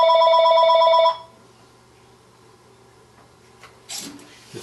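A telephone rings loudly with a steady electronic warble for about a second and then stops, leaving a quiet room with faint rustling and a soft clatter near the end.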